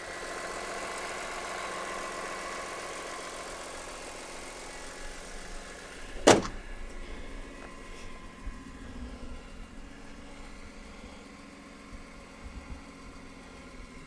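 A 2003 BMW E46 M3 CSL's bonnet drops shut with one sharp, loud slam partway through, set against a steady low engine idle that carries on before and after.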